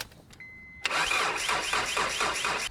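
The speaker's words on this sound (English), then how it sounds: "now we have 30 seconds to start the engine" A car engine cranks and catches after a boost from a TOPDON JS1500 jump starter on a very weak battery, a faint tone before the loud start settling into a steady, fairly close idle with no talk.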